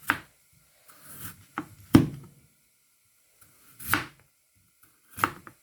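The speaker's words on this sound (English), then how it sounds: "now I'm going to chop them to small cubes" Knife chopping peeled potatoes into small cubes on a cutting board, a few separate sharp close thunks spaced irregularly with quiet gaps between them.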